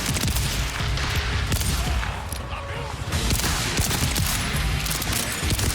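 Rapid, loud gunfire from a weapon in the video game Borderlands 4 fills the whole stretch, dense bursts of shots with booming impacts and chaotic effects layered on top.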